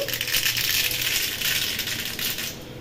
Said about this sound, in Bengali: এর মধ্যে শুকনো লঙ্কা দিয়েছি, তেলটা খুব গরম হয়ে গেছে। আর একটু সর্ষে দিয়ে দিলাম